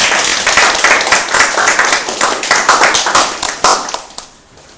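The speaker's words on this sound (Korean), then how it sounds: "큰 박수로 한번 환영해 주십시오." A church congregation bursts into loud applause during a Sunday worship and baptism service, dense rapid clapping from many hands filling the room and then thinning out near the end.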